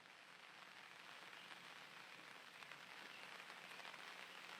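Heavy rain falling in the Blumenau region of Brazil, a dense steady hiss of drops on surfaces, continuous and even throughout with no voices.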